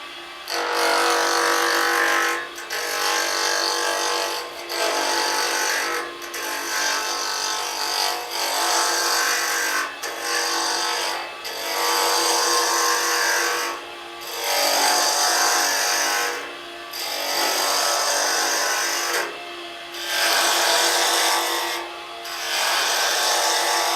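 A wood lathe turns a streamlined pen blank as a tool takes off shavings, a loud steady whine with rhythmic dips every second or two as the cutter moves back and forth.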